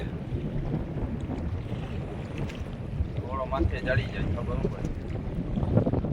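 Strong wind roars steadily across the microphone on open water from a fishing boat, with creaks and the wash of the boat underneath and faint voices at times.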